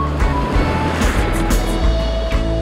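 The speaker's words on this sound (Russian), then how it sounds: "Волны приличные." Sizable sea waves roll and break on a beach where a small hut is being built, a steady loud surf wash with rising swells filling the whole clip, no voices.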